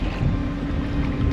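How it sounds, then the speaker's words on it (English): Steady low engine rumble of a boat passing near Rodriguez Key in the Florida Keys, mixed with wind buffeting the microphone and water noise, continuous and fairly close. "that boat is passing in front of right now"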